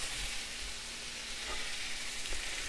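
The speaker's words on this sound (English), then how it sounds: "Quick little stir, make sure it's heated all the way through." Steak fajitas sizzle quietly in a pan under a quick stir, a soft even frying hiss throughout.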